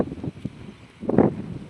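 Strong wind sweeps across a lakeside dam, buffeting the microphone in uneven low rumbling gusts, with a louder blast near the end and no speech.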